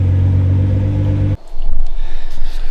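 A Nissan GT-R R35 idles loudly while warming up, a steady deep engine drone that cuts off abruptly midway, followed by a lower, uneven rumble with pulsing exhaust and mechanical noise close by.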